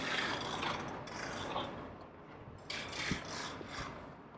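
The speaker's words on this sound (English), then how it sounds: "You want to hold this as you remove the final bolt." Ratchet working a bolt loose on a Cybertruck mirror mount, quiet close clicking in short bursts with brief pauses between the turns.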